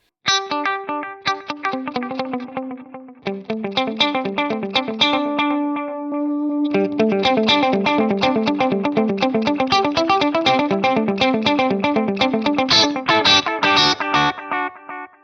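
Electric guitar played through a Memory Man delay in front of an amp with a drive model, producing a steady run of distorted, echoing notes that start softer and swell fuller after a brief pause, with no voices.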